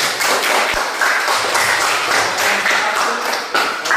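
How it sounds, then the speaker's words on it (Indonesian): A classroom of students applauds a student group that is about to present. The clapping is loud, close and steady, a dense continuous patter for a few seconds. "Sekarang kita tepuk tangan dulu buat kelompok 1."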